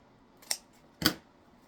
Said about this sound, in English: we're just going to fold that ribbon in half and cut up at an angle